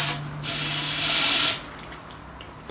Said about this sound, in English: Flushing out this hose